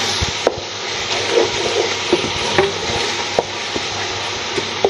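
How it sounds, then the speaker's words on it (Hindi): Onion and tomato masala sautéing in a pot for chicken yakhni pulao, a low steady sizzle punctuated by regular scrapes and taps of a stirring spoon, close up. "इसको हम थोड़ा सा और भून लेंगे ताकि जो हमारे टमाटर हैं ये अच्छी तरीके से मिक्स हो जाए और मसाला हमारा भून जाए"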